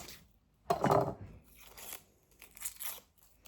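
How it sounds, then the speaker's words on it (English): Onions being cut with a knife on a board, a crisp crunchy slice followed by a few lighter cutting strokes, close and fairly quiet. "cut the onions."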